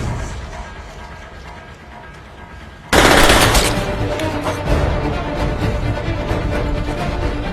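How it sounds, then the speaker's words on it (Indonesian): Heavy automatic gunfire from a film shootout between FBI agents and Chinese Triad fighters erupts suddenly after a quieter stretch, then continues as a loud, dense barrage of shots to the end. "Film diawali dengan aksi baku tembak dua anggota FBI bernama John dan Tom yang tengah melawan pasukan Triad dari Tiongkok."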